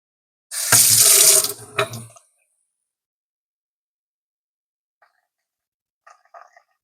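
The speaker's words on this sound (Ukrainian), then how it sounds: "Так, заливаю водою." A short burst of water pouring into a coffee pot for about a second and a half, then silence broken by a few faint clinks.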